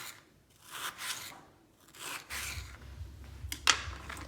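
Vegetables for vegan pad thai are sliced thinly with a kitchen knife, giving soft, close rasping strokes repeated several times with quiet gaps and a sharper tap near the end.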